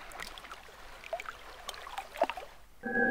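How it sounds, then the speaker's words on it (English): Lagoon water in the video game Myst III gives a faint, soft trickling and gurgling with scattered small splashes, and a steady tone enters near the end. "We can also listen to the lagoon water."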